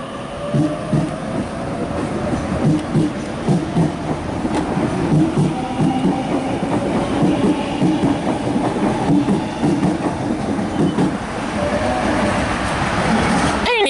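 Sydney A53 electric train pulls out of Milsons Point station on a Penrith via Parramatta service, with a steady rolling rumble, rhythmic wheel clatter over rail joints and a rising motor whine as it accelerates away.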